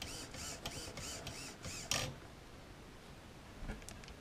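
An RC car's steering servo on channel 1 whirs in short, quiet mechanical bursts with a faint whine, repeating rhythmically for a couple of seconds before going mostly still, with a few soft clicks at the end.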